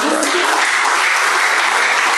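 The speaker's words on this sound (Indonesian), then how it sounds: "tepuk tangan saudara" Audience applause at a church sermon, a dense, loud burst of many hands clapping together that fills the moment without pause or voices.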